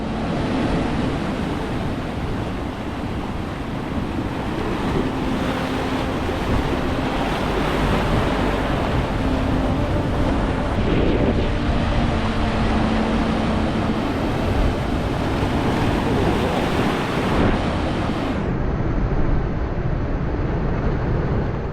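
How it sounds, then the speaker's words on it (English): Ocean waves surging and slamming against the rocks at Noosa Heads, Queensland, a continuous loud roar of surf and spray with wind buffeting the microphone throughout. "These ones are my absolute favourite because of the way the water slams back on the rock"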